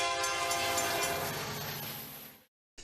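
A moving freight train at Tower 26 in Houston, Texas, its loud sustained horn blaring over a heavy rolling rumble for a few seconds before cutting off abruptly.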